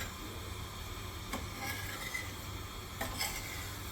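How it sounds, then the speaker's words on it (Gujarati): Spices warming in a pan for a Gujarati carrot pickle are stirred, giving soft scraping and faint clinks of a spoon against the pan over a low, steady background, with no speech. "આપણે ગરમ કરીએ છીએ અને એને હલાઈશું"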